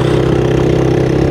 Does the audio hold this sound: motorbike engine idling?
yes